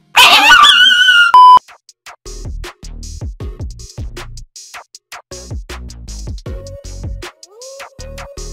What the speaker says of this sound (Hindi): ये बन गया अपना व्हाइट कुत्ता।